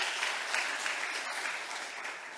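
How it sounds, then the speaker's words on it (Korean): A church congregation claps during a Sunday worship service after a choir's hymn, producing a full, steady round of applause from many hands that fills the hall. "그런 의미에서 박수 한번 해주세요."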